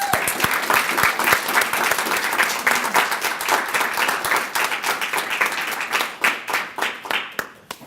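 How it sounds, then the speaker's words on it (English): A large audience at a morning speech event applauds the finalists with dense, sustained clapping that fills the room and slowly thins into scattered claps near the end. "if I can have everybody just give our finalists a round of applause"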